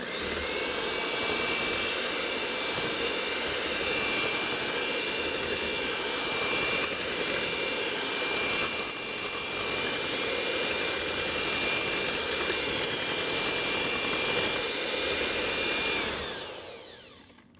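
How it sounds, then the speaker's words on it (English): An electric hand mixer whirs loudly and steadily, beating an egg mixture for blueberry French toast bake, running nonstop for about sixteen seconds before cutting off at the end. "this is a very quick time that we'll need to use our hand mixer"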